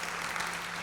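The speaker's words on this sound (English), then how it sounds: "can we have a big round of applause for all our collaborators?" Audience applause at a women-in-business summit in India, a brief, steady wash of clapping from a crowd with a low hum beneath, no voices on top.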